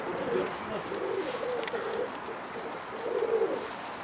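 Pigeons cooing in soft low repeated calls, close by, with faint background noise and brief voices.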